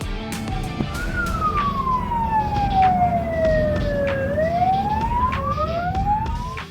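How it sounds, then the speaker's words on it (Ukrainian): Fire engine and ambulance sirens wail in slow rising and falling sweeps on a street in Vinnytsia, Ukraine, loud and close over a continuous rumble of passing traffic. "як водії вінничани пропускають автомобілі з проблисковими маячками та сиренами"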